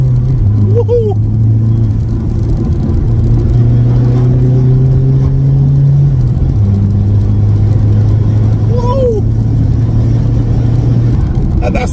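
A Volkswagen Passat B3 with a PD150 diesel engine revs steadily and loudly up close, its tone climbing and dipping through two long pulls, with a brief whistle of turbo spool near the start and again near the end.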